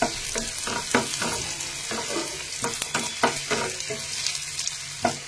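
Onions fry in a pan under a steady, close sizzle, with a series of rhythmic scraping stirs of a utensil roughly every half second; nobody talks.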